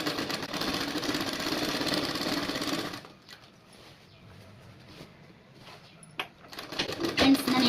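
An electric sewing machine stitching falls onto a saree runs in a fast, steady whir for about three seconds, then stops, leaving faint room noise and a few light clicks.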